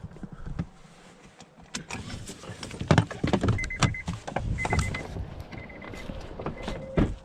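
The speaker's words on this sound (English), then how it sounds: "I'm just going to step out of my truck here for a minute." Someone steps out of a pickup truck at night in a field, with a door unlatching, clunks and rustling, then several sharp thuds and clicks, all close and fairly loud. No one speaks.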